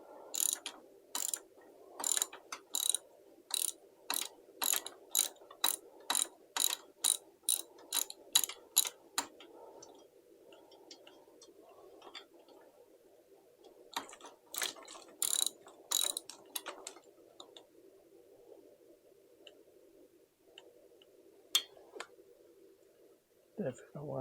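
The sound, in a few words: T-handle socket ratchet turning on Royal Enfield 650 engine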